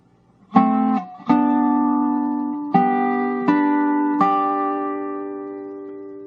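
A resonant dobro phrase of six plucked notes, picked one after another with a metallic ring that sustains and slowly fades, played solo.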